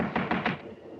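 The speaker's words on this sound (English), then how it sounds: "Better try knocking this time, Watson." Three quick knocks on the bedroom door of an old house, close and distinct, followed by a short quiet room tone.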